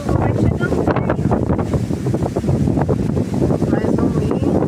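Strong wind blows beside a choppy river on a fishing trip as rain approaches, roaring and buffeting the microphone in continuous loud gusts with a watery wash beneath.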